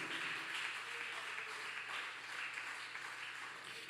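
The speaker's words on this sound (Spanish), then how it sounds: "De un aplauso fuerte al Rey de Reyes y Señor de Señores." A church congregation applauding, a steady, fairly faint wash of clapping that holds evenly for a few seconds with no talk over it.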